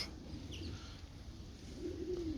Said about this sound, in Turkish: Bunlar da kerkük Miro da kerkük kuşu.